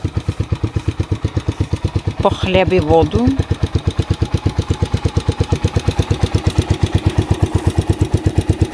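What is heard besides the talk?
moped engine running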